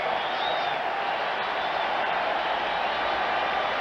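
A football stadium crowd roars in a steady, dense wash of noise after a touchdown at a 1989 NFL game, NY Giants at San Diego Chargers, with the cheering holding at an even level throughout.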